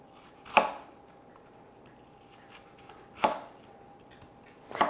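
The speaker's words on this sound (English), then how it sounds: "And then just thinly slice your apples." A knife slices through apples on a cutting board in three sharp, well-separated thunks, close up against a quiet background.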